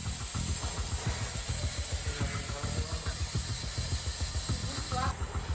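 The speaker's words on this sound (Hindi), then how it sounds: "उसी सीटी के ऊपर लगी गीजर की पाइप से होते हुए प्रेशर कुकर का गर्म भाप सीधे रेल कर्मियों के नाक और फेफड़ों तक जा रहा है।" Hot steam hisses steadily from a pressure cooker, routed through a geyser pipe fitted over the whistle and used by railway workers. The close, continuous hiss carries a rhythmic pulsing throb underneath, with talk over it.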